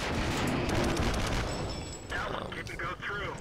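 Tank cannon rounds fire and ricochet off a French D1 tank in a tank battle game: a dense burst of booming shots and metallic impacts up front, thinning into scattered bangs and ringing clangs near the end.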